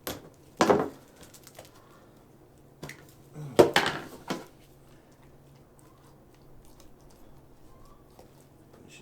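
A cheap manual food chopper from Dollar General chops homemade beaver lure ingredients in two short bursts of clattering, rapid strikes, separated by a single tap and long quiet pauses.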